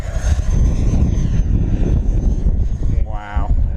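FMS Avanti V3 RC jet making a fast, close fly-by on a windy day, a loud continuous roar with a brief rising whoosh near the end, under wind noise and someone talking.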